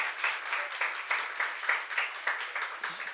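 A church congregation applauds in a dense, steady patter of many hands clapping, fairly close, without any voices over it.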